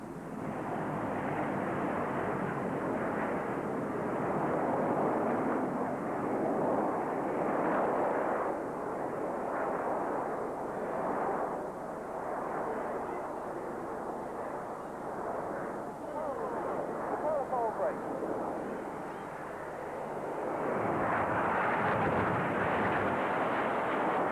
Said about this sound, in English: let the Red Arrows, led by Squadron Leader Brian Hoskins, provide that spine-tingling finale that's become the hallmark of the great aerobatic teams